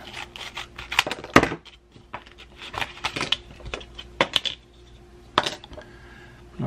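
A memory card pulled from a Canon G7X Mark III compact camera, with a series of small sharp plastic clicks and taps scattered irregularly, close and quiet, some grouped in quick pairs, with no talking.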